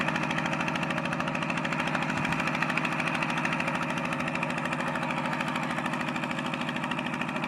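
A walking tractor's small single-cylinder engine chugs steadily at idle in a rice field, a rapid, even putter with a rough vibrating drone, close and continuous.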